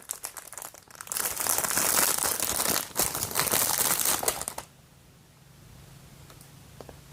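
A plastic packet crinkling loudly and close as items are pulled out of it, a dense run of crackling that stops after a few seconds and leaves a quiet room.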